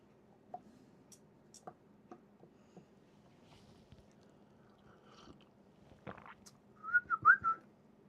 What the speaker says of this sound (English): Did I hear a whistle?